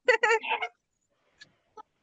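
Two young chicks cluck, a loud close burst of several quick clucks followed by two faint short peeps after a pause.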